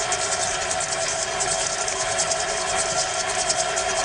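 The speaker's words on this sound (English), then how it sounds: "And now a little bit of whirring, just to make everything cohere." A food processor whirs biscuit crumbs and butter together with a continuous, loud, even motor drone that holds unchanged throughout.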